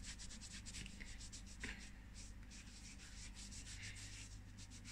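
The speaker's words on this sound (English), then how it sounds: "You're watching me scrub my arm off." Steady, faint rubbing and scrubbing of skin to remove eyeshadow swatches from an arm, a continuous soft friction with a few brief louder strokes, close up and without speech.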